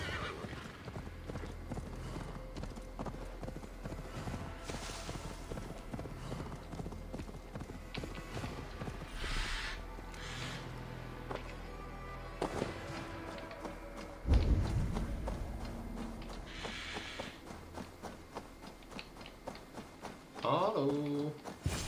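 Steady clip-clop of horse hooves trotting on a hard surface in Assassin's Creed Valhalla over continuous game background sound, with a brief whinny and thud near the end.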